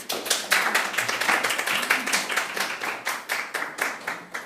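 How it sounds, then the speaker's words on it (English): Applause for a guest speaker at a storytelling and social media masterclass in Manchester, a small audience clapping steadily and fairly close for several seconds, with rhythmic individual claps standing out and no talk. "So let's give Anna a round of applause."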